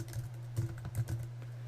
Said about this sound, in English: I'm just going to type in here number array